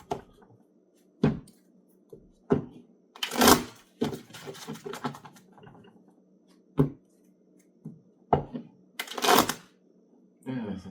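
A deck of tarot cards shuffled by hand in short riffling bursts separated by quiet gaps, close and crisp, with a voice speaking at times between the bursts.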